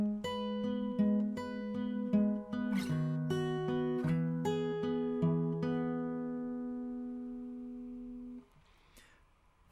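A guitar plays the opening two bars of a song as picked notes over sustained chords, close and clear, ringing out before a soft stop with no talking.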